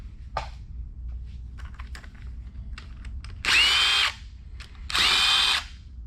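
An impact wrench works on bolts of a GMC Acadia 3.6 engine, firing two loud, close bursts of about half a second each, separated by quieter clicks and tool handling.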